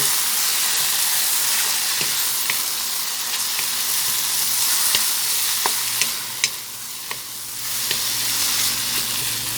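Egg stir-fries in a hot pan with a loud, continuous sizzle and hiss, while a spatula makes sharp intermittent clicks and scrapes against the metal.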